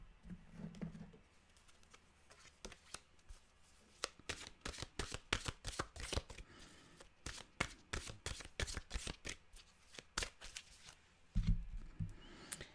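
A deck of mantra cards is shuffled by hand in a quiet room, a long run of soft rapid riffling flutters and slaps, with a couple of dull thumps near the start and end.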